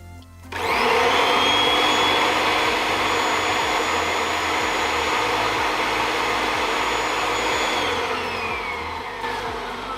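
A Kirby vacuum cleaner with its stretchable hose attached starts up and runs loud and steady at close range, with a high whining motor and rushing airflow, then slowly winds down near the end.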